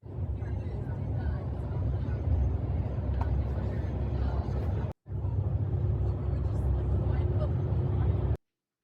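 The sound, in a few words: bus driving, heard from inside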